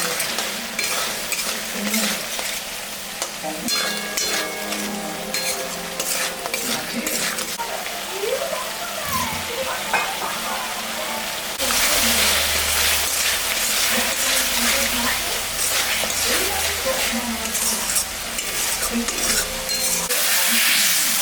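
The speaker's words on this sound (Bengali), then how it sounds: "মশলাটা আর একটু ভাজা" Tomato and spice masala for prawn curry frying in hot oil in a pan, a steady loud sizzle with repeated stirring scrapes and utensil clinks, growing harsher and brighter partway through.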